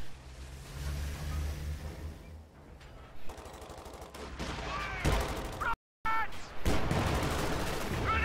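Weapon fire in a strategy video game during a cast match, dense bursts of automatic shots mixed with loud impacts and explosions, with a voice talking over some of the action.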